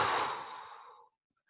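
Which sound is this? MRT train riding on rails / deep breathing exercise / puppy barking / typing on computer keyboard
deep breathing exercise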